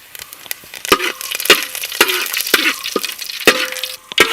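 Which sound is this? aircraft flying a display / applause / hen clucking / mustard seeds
mustard seeds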